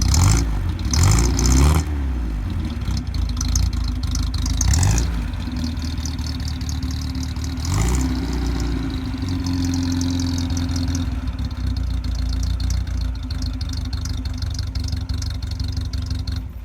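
A classic Datsun car with an aftermarket exhaust header and turbo muffler idling nearby, a steady low throbbing rumble with a few brief revs near the start and a small rise midway, no talking.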